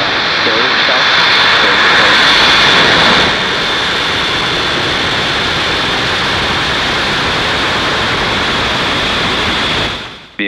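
A SpaceX Falcon 9 rocket lifts off from Florida carrying Starlink satellites, its engines producing a loud, dense, continuous roar that swells at first and then holds steady, with a voice talking over it.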